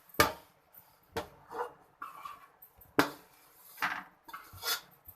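Thick sooji halwa is tipped from a pan into a greased tray, giving a few separate metallic clanks and scrapes of utensil against metal with quiet gaps between them.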